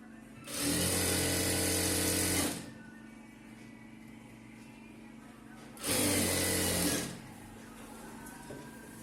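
A sewing machine stitching a chudithar runs in two loud, steady bursts of about two seconds each, close up, with a quiet pause between them.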